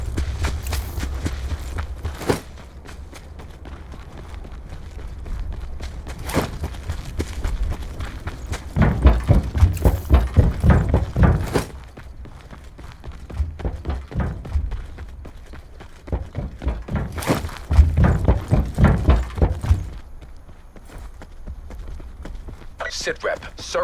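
Heavy armored footsteps in the Call of Duty Blackout video game cross several surfaces in rhythmic bursts of thudding steps, loud and close, separated by quieter stretches with a low background hum.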